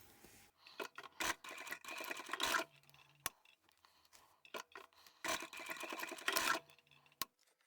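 An overlocker serger stitching along a fabric edge while sewing a beanie cap, a quiet close whirring in short runs broken by brief pauses and small clicks and rustles of handled fabric.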